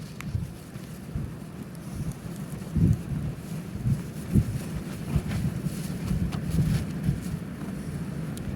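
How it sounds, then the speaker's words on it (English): Severe wind gusting at a cold campsite, low rumbling buffeting against the microphone that swells and fades in uneven gusts, moderately faint with no talk. "The wind is blowing so severe"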